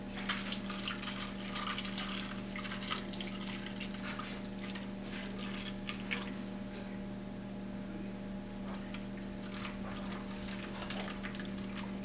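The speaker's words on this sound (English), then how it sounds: "we can take this and just pour it right into our ice cube tray" Homemade veal stock poured into an ice cube tray, a soft steady liquid pour and trickle over a constant kitchen hum, with small splashes as it continues.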